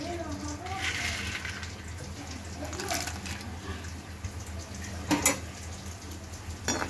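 Chickpeas frying in hot oil in a pan over a medium flame, a steady soft sizzle and bubbling with a few sharper pops, heard without talk.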